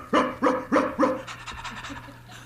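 A human voice imitating the cartoon dog Pluto panting, four strong rhythmic breaths followed by quicker, fainter huffs, close to the microphone.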